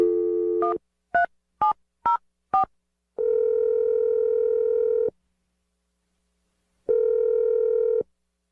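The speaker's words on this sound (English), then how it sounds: "We're going to dial her phone number right now" A phone line gives a steady dial tone, then five quick touch-tone beeps as a number is dialed, followed by two long ringback tones separated by silence, clear and alone.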